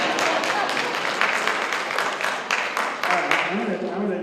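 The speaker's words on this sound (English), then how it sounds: "Another round of applause, please." An audience at a senior advocates meeting applauds, a steady wash of many hands clapping that fills the whole moment, with a voice emerging faintly near the end.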